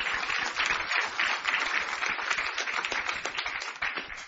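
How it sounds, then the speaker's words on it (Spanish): A church congregation claps in a lively, quick rhythm, many hands at moderate distance, sustained and fairly even throughout with no voices on top. "Give a strong applause."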